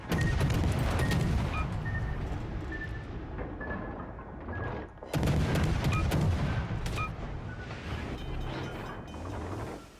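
Naval gunfire and incoming shells in a warship video game: dense, loud rumbling salvos and booms fill the scene, easing briefly midway before another heavy burst of fire and explosions.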